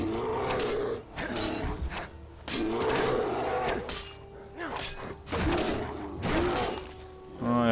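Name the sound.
bear attacking in the video game Skyrim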